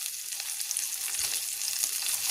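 Bangus (milkfish) frying in hot oil in a home kitchen pan, a dense, steady sizzle with crackling spatters that holds at an even level throughout, with no talking.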